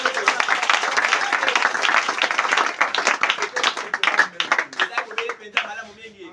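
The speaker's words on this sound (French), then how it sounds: "Vous acclamez pour la gloire de Dieu" A church congregation applauding, dense rhythmic clapping that fills the space and thins toward the end into scattered claps, with voices mixed in.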